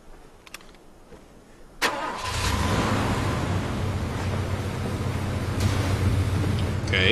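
A car engine in the video game Far Cry 2 cranks briefly, then catches and settles into a loud, steady running roar that holds close and continuous, with a few faint clicks before the start.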